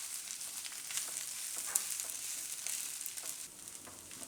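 Boiled wheat roasting in ghee in a pan, a soft, even frying sizzle with faint crackles and light stirring scrapes, fairly quiet and steady throughout with no voices.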